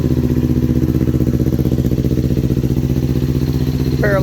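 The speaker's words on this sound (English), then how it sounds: "And let's check out this cool sounding motor." A 2020 Kawasaki Ninja 400 parallel-twin engine idles steadily up close, a loud, even, throbbing putter with a slight clatter and no talking.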